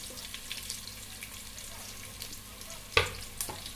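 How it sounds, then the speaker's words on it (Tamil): Onions drop into hot oil for a rice and dal dish, a low steady sizzle with a sharp clatter near the end, fairly faint and close, with no talking. "நல்லா ஹீட் ஆனோடனே வெங்காயம் போடுறோம்."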